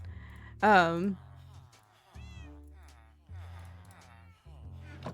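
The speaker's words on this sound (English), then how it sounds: "I love you, cat." A cat lets out a loud, close meow, followed by softer, fainter mews and chirps spread across the following seconds.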